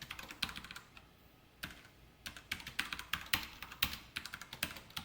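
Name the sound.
typing Java code on a computer keyboard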